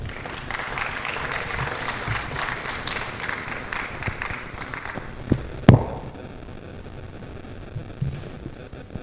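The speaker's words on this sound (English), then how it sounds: "Shall we keep the applause coming for Dr. Samuel Mausi Asafo" A conference audience at an admin professionals event applauds the speaker. The clapping is moderate and diffuse for the first half, then fades to low background noise after a sharp knock midway.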